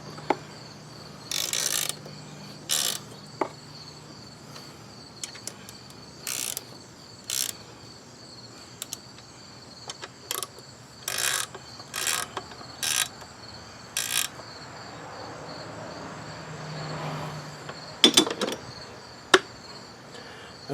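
Ratchet tightening bolts on a 1999 Grand Am 2.4L engine during timing chain work, heard as repeated close clicking bursts spread across the stretch, each a quick string of pawl ticks, over a steady faint hum.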